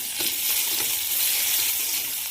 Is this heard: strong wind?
no